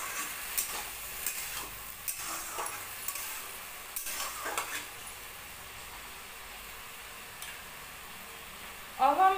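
Mushroom and potato curry with mustard paste is stirred in a pan, with intermittent scraping stirs and clinks over a soft, low sizzle, followed by a louder burst of sizzling near the end.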